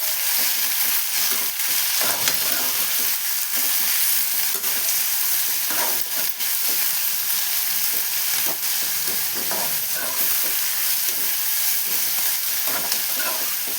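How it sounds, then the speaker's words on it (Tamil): Onions sautéing with salt in a pan for aval kichadi: a steady, close sizzle and crackle of frying with occasional stirring scrapes, continuous throughout with no talk. "உப்பு சேர்த்து ஒரு 5 மினிட்ஸ் ஆனியன் நல்லா வதங்கிட்டுங்க."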